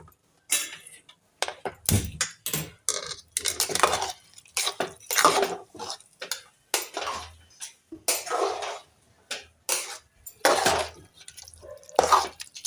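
A masher works through wheat kheer in a metal pot on the stove, giving close, uneven bursts of clanking, scraping and wet thuds, separated by short pauses.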